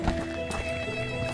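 Hooves clip-clop in a quick trotting rhythm in the video game Medieval Dynasty, over a steady hum of background music, brief and close.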